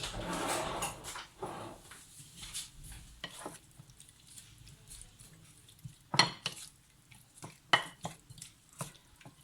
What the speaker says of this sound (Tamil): நல்லா மிக்ஸ் பண்ணி விட்டுட்டு ஒரு 5 மினிட்ஸ் ஊற விட்டுட்டு